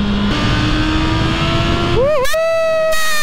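A Honda CB650R motorcycle engine drones loudly up close on a highway, its pitch climbing steadily as it accelerates toward 120 km/h, then dipping and rising again through a gear change.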